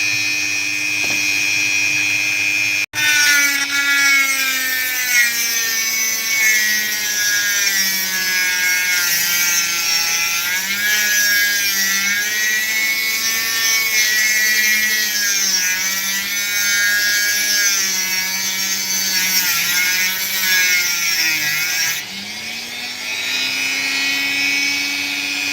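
A saw cuts through opal at a sand layer, giving a loud, continuous high whine that wavers in pitch as the blade bites, with a sharp click early on and a brief dip before the whine resumes.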